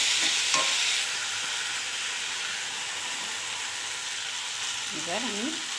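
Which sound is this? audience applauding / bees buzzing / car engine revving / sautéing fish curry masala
sautéing fish curry masala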